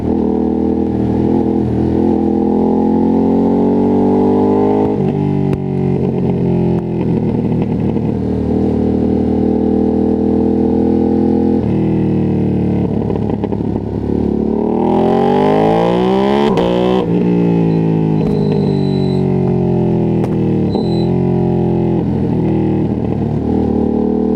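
A Ducati Streetfighter V2S engine roars continuously during a ride, heard up close. The pitch climbs through repeated gear shifts, dips and surges again under hard acceleration, with wind rush throughout.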